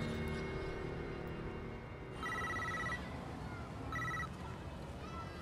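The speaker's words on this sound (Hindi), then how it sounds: "खान को फोन लगाओ।" A telephone rings in two short electronic bursts over a steady background of murmuring voices and room noise, in a Hindi-dubbed South Indian action movie.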